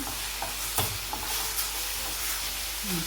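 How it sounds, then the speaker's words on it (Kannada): Grated carrot for halwa frying and being stirred in ghee, giving a steady close sizzle with faint scraping and stirring clicks and no voice. "ನೋಡಿ ಈ ಥರ ನೀಟಾಗಿ ಫ್ರೈ ಆಗಬೇಕು"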